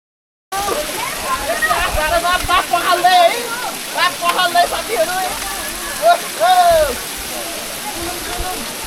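Water gushes and splashes from the 108 spouts at Muktinath temple in Mustang, Nepal: a loud, continuous rushing spray with voices talking and exclaiming over it.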